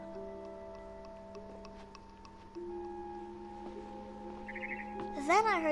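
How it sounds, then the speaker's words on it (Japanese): Barn swallow chirps from a video game, bright rising-and-falling calls arriving late and loud over a steady electronic background hum and faint ticking. "Then I heard chirping outside my window."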